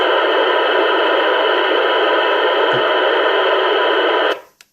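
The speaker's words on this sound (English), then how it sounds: "I don't want to be basically deafening you with static" Loud, steady broadband hiss of static from a 2-meter amateur radio receiver, continuous and unbroken for several seconds before abruptly cutting off as it is switched off.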